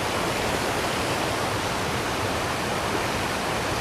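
Water pours down an abandoned railroad spillway on an urban creek, making a steady, unbroken broadband roar that stays close and constant with no voices.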